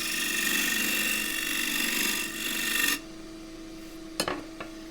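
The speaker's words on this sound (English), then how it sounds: "This is cross grain, therefore I can do this with a scraper." A scraper works cross-grain wood inside a turned pagoda box on a lathe, a steady rasping hiss under the lathe hum for about three seconds, then stopping abruptly and followed by two light tool knocks.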